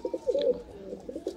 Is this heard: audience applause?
no